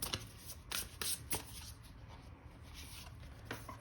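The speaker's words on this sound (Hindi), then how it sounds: "एक और कार्ड निकालते हैं" Tarot cards shuffled and drawn in a Hindi reading, a few crisp riffling bursts and soft slides of card stock in a quiet room, close and alone without talk.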